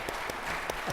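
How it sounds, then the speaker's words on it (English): A brief burst of audience applause at an onstage business interview, about a second of scattered, moderately faint clapping. "Round of applause, I think, please."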